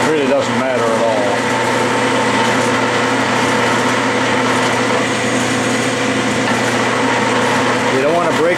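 A metal lathe faces the ends of a steel test bar, giving a steady high whine and machining drone throughout, with someone talking over it.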